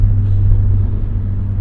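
A 1998 Eagle Talon TSI turbo pulls away from a stop, its engine a steady, close, low rumble with no one speaking.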